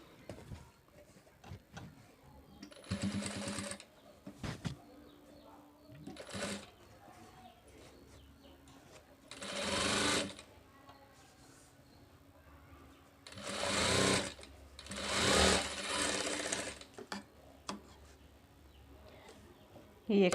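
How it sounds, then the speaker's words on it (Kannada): A sewing machine stitches a blouse front part in several separate loud runs of rapid mechanical whirring, with quieter handling sounds between the runs. "ಸ್ಟ್ರೈಟಾಗಿ ಸ್ಟಿಚ್ ಮಾಡ್ಕೋಬೇಕು."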